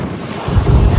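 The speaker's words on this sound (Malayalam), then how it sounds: "ഇവിടെ നല്ല കാറ്റും തണുപ്പും." Strong wind buffets the microphone at a ferry harbor in Malta, a steady rushing roar that grows louder and heavier halfway through, with faint water and boat ambience beneath and no voices.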